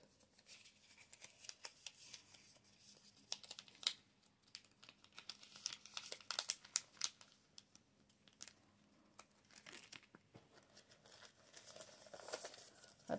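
Paper or packaging crinkles and rustles while being folded, with soft, close, intermittent crackles and taps of varying loudness and no talk.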